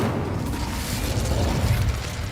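The Incendio fire spell in Hogwarts Legacy lands as a steady, roaring blast, a loud rumbling burst with crackle that fills the whole moment without letup.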